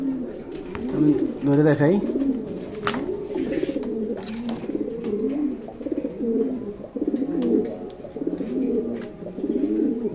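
A pair of racing pigeons coo repeatedly up close in rhythmic, throaty bursts, mixed with someone speaking nearby and a few brief handling noises.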